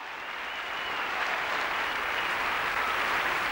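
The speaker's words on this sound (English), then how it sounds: "He will elicit all sorts of audience response, including applause when he does something spectacular." Theatre audience at a ballet performance breaks into sustained applause that swells slightly and holds steady, a dense even wash of many hands clapping at a moderate distance.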